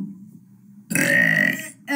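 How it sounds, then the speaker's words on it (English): A loud, drawn-out burp of about a second follows a low murmur, with a voice starting again right after it. "We're doing another video, another burping video."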